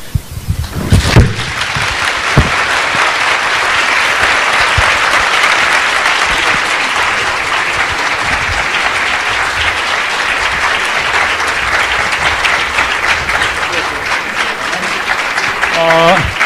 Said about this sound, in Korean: 세 분한테 이제 큰 박수 보내주시면